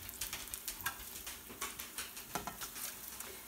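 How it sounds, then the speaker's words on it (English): Salmon patties fry in hot oil, giving a soft, steady sizzle broken by quick crackling pops and spatters at an irregular rhythm. The sound is fairly quiet and close, with no voices. "now we're going to put our salmon patties in to fry up"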